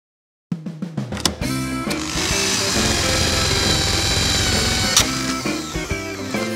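A loud, continuous drill whine and grind, steady and close, boring into a concrete wall, starting after a brief series of sharp knocks.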